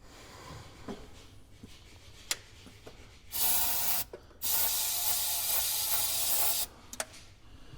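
Bursts of aerosol ether starting fluid sprayed into the engine of a 1965 Chevy rollback truck, two sustained hissing blasts, the second longer, with a few faint clicks and taps in between, close and fairly loud, no talking.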